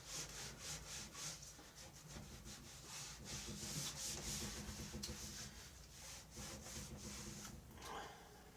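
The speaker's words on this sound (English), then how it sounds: "Getting a lot of dirt off this thing." Dirt being wiped off an old Gateway 2000 P5-90 computer case, a close, continuous scrubbing and rubbing of cloth against the casing in uneven back-and-forth strokes, fairly quiet overall.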